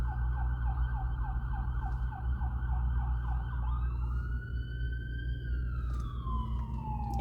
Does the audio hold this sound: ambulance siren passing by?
yes